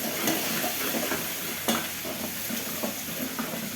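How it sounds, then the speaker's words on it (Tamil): Ginger garlic paste fries in hot oil with whole spices for mushroom biryani, making a dense continuous sizzle close by, with a few faint scrapes of stirring. "பட்டை இலையெல்லாம் பொரிஞ்சதும் இஞ்சி பூண்டு பேஸ்ட் சேர்த்துக்கலாம்"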